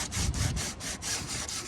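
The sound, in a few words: sanding Bondo filler by hand with sandpaper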